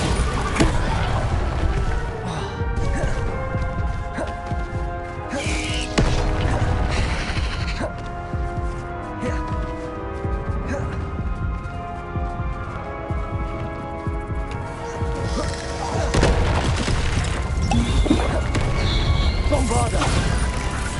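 Repeated Bombarda and Confringo spell blasts from the Hogwarts Legacy video game, bursts and crashes layered over dense game music with a voice speaking throughout.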